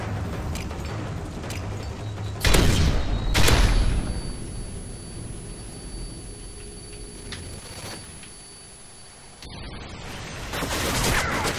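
Gunfire in Call of Duty Modern Warfare 3 during an online Search and Destroy match: two sharp, loud bursts a second apart, then a steady game-sound bed and a softer shot later, with no talking.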